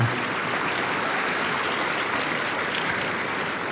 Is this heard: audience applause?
yes